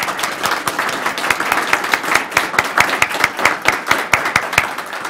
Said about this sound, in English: Would you stand up and let's give them a round of applause?